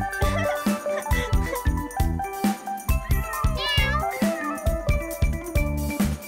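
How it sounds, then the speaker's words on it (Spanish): Kittens meow repeatedly in a children's nursery rhyme song, with rhythmic musical backing and tinkling sounds around the cries, which come in quick succession throughout. "quieren escuchar sobre los tres pequeños gatitos"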